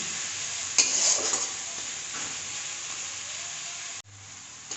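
Spices frying in oil in a pan for a coriander tilapia dish, with a continuous close sizzle, a few stirring scrapes near the start, and an abrupt drop in the sizzle toward the end.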